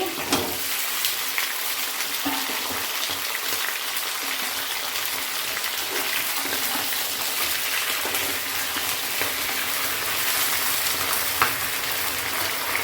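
Broad beans and eggplant frying in a pan for a Bengali spinach curry, a continuous close sizzle and crackle of hot oil with occasional faint stirring clicks.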